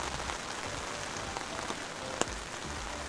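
Steady rain falls at a wildlife park, a dense even patter on surfaces with one brief sharp tap partway through.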